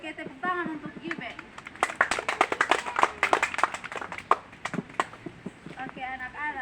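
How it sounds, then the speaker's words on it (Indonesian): A classroom of children bursts into rapid, scattered clapping in the middle, surrounded by a teacher's voice talking before and after. "tepuk tangan untuk Gibe."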